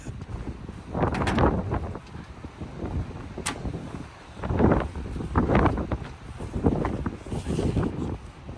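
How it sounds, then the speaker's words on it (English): Gusty wind buffets the microphone outdoors at a police towing and recovery vehicle auction near a 1999 Ford F-150, coming in loud rumbling surges with brief lulls between them. "The wind is giving us a fit out here today, folks."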